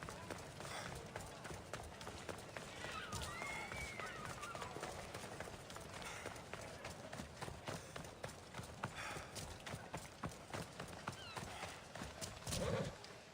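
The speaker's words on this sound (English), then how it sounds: "It's a very nice horse. A sturdy horse." Horse hooves clip-clop at a steady galloping rhythm in Assassin's Creed Odyssey, with occasional neighs and ambient game sound layered over a continuous bed of movement.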